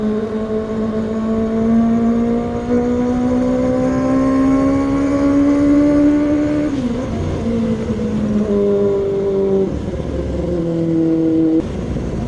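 A Yamaha Mio scooter engine labours up a steep hill with a passenger aboard, its loud, steady drone rising slowly in pitch, then dropping and wavering as it struggles, close and continuous with no talk.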